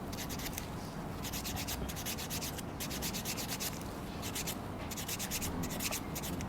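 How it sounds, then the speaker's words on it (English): A file rubbed over the feet during a pedicure, giving steady, rhythmic back-and-forth rasping strokes with brief pauses, close and continuous, with no talking. "We take our time in filing"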